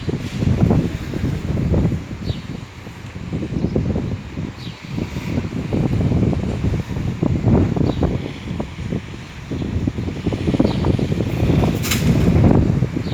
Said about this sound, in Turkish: Şu rüzgarı da çekeyim kapatacağım arkadaşlar